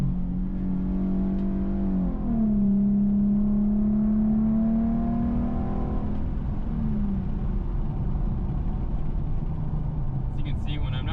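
Infiniti Q50 with a loud custom exhaust, a steady engine note that rises and falls through revs and downshifts, heard close and continuous.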